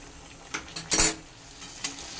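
Mango pieces cooking in oil for a sweet and sour mango pickle are stirred with a utensil, giving a few scraping clinks and one louder scrape over a soft, steady sizzle, close by.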